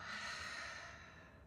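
A single long exhale during hypopressive breathing practice, a steady airy rush lasting the whole moment and slowly fading, close and fairly loud with no talking.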